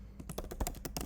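Rapid, close keystrokes clatter on a computer keyboard in a quick, uneven burst of about a dozen clicks, with no voices.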